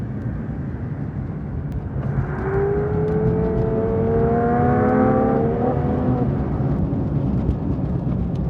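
A Porsche 911 992 GT3 Touring's engine climbing through the rev range, a rising, smooth mechanical whine building over road noise and then easing off, heard from inside the car.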